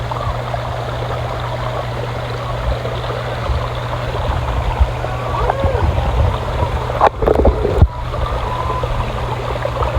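Rushing water at a deep, hidden waterfall among rocks, a steady broadband roar with a low hum throughout, and a few brief sharp knocks near the end.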